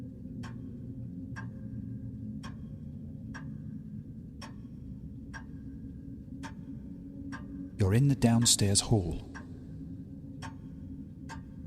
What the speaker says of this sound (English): There's a big old grandfather clock showing just before 4 o'clock.